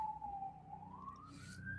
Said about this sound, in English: Is the siren out your window? Yeah, the sirens.